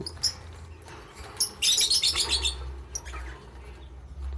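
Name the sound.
lovebirds chirping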